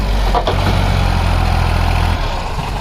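A tractor fitted with a sugarcane harvesting machine, with no front tyres, runs its engine in a loud, steady low rumble, close by and alone.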